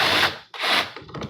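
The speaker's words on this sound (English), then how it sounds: "this drill bit is actually long enough to make short work of this." A long drill bit bores into wood in two loud, close bursts of grinding and rasping, with a short pause between them and a rougher, stuttering end.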